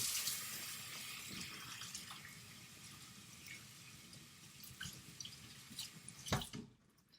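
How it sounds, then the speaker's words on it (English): Water from a tap runs and splashes over soapy hands being rinsed at a sink, a close, soft, uneven trickle with a few louder splashes and drips before it stops. "I'm going to turn the water back on so that I can rinse."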